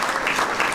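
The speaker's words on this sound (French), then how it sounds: "On peut applaudir les présidents, s'il vous plaît." Audience applause for former presidents at a professional anniversary celebration, a brief burst of steady, dense clapping from a crowd.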